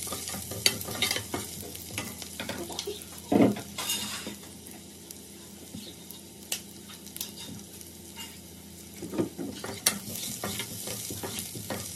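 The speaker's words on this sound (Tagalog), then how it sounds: "So, pag mainit na, ilagay na natin yung sibuyas. Hintayin na natin mag-caramelize." Onions sizzle and fry in a hot pan while a utensil stirs them, with a few louder scrapes and clatters of metal against the pan over a steady crackling hiss.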